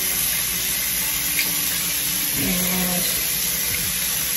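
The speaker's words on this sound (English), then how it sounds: "So, I'm gonna rinse it out and air dry it out." A tap runs steadily into a sink while a freshly dyed synthetic wig is rinsed, a constant close rushing splash with slight shifts as the hair moves under the flow; a single spoken word is heard.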